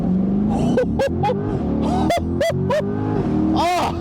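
A 2024 Chevrolet Corvette Convertible launches at full throttle, its loud exhaust climbing in pitch through several quick upshifts, each marked by a sharp crack, while an occupant gives a brief exclamation.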